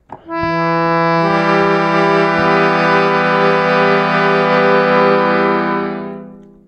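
A harmonium sounds one sustained reed chord for about six seconds, steady and full after a short intro note, then fading out, with no voice over it.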